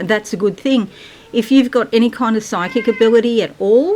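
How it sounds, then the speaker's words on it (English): A pet cat meows in the background of an indoor room while a person talks continuously in the foreground, its short cries partly buried under the voice. "that's my cat"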